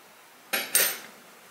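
A spoon clinks twice against a bowl while chia pudding is stirred, two sharp close metallic taps in quick succession after a quiet start.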